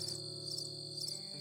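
Crickets chirp in a steady, even trill for a brief moment, played alone as a silence gag with no voices over it.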